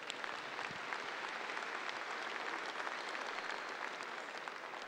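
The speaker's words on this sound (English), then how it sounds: "Let's give them a round of applause." Steady, sustained applause from an audience thanking the volunteers at an International Red & White dairy cattle show, dense and even throughout without a break.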